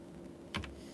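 Computer keyboard keys tapped while entering a web address, heard as a quick cluster of two or three close clicks over a steady low hum.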